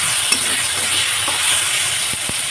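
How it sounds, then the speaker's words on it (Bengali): Onion and tomato frying in a pan, a loud, continuous sizzle with occasional soft stirring scrapes and a few low knocks near the end, close up with no voices. "তারপর আমার টমেটো পেঁয়াজটা ভাজা ভাজা হয়ে গেছে।"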